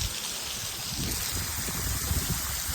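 Heavy rain pours steadily in a broad, dense hiss with scattered close drops, loud and continuous throughout, with no voices.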